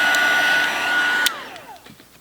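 Heat tool drying stamped ink on vellum, a steady loud blowing whir that stops abruptly and winds down to quiet.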